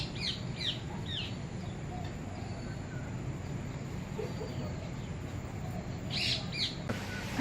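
Birds call at a bird park in Malaysia where peacocks roam, with a few short chirping bursts at the start and again near the end over a steady outdoor background hum.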